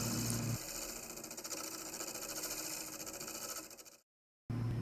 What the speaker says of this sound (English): you can cut it as fast as your bandsaw allows